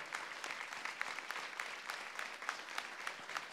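An audience at a felicitation ceremony for a veteran violinist claps steadily and fairly faintly, a dense even patter of many hands with no voices over it.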